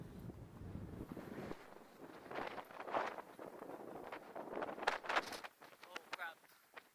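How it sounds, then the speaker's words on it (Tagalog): Gusty wind buffets the microphone in rising and falling surges, with a few brief voices in the background. "Tsaka malakas yung hangin."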